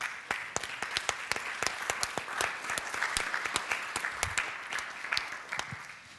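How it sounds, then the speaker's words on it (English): A seated audience at an academic Q&A session claps for the presenters: a sparse round of distinct, sharp handclaps, fairly close, running steadily through without voices. "Can we give them another round of applause?"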